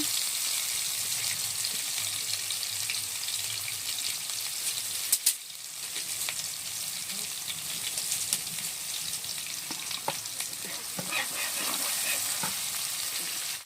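Onions frying in a pan for a sandwich filling give a steady, close sizzle that runs throughout, with occasional stirring clicks and scrapes, one sharp tap in the middle, and no talking.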